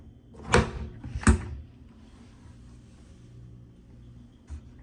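A hotel room kitchen drawer holding knives, forks, spoons and a can opener gives two quick close knocks as it slides and shuts, followed by quiet room tone and a faint later tap.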